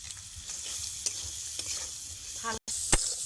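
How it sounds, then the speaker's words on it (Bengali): Spices and Maggi masala are stirred and fried in a pan for a broccoli curry, a steady close sizzle with scraping spatula strokes and a brief clatter near the end, no voices. "দুই থেকে তিন মিনিট এটাকে কিন্তু নেড়ে নিতে হবে"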